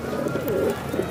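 Breeding pairs of high-flyer pigeons from Jaipur and Tonk coo close by in soft, low, rolling murmurs that overlap for a moment, with no voices.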